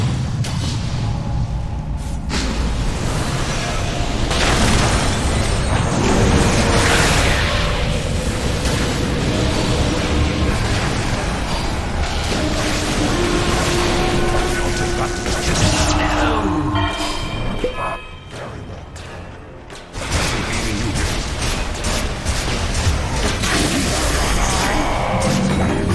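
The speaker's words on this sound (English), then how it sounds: "Radiant's bottom tower is under attack" A busy Dota 2 teamfight at a tower that is under attack, with dense, loud explosions, spell impacts and crashes that are layered and continuous. The action drops briefly near the end, then bursts back in.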